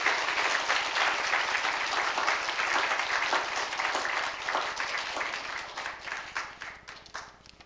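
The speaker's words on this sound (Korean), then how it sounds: "박수로 맞이해 주시기 바랍니다." A church congregation at an early-morning Thursday service claps warmly to welcome a pastor to the pulpit, a steady wash of many hands that stays loud and even before gradually thinning and fading toward the end.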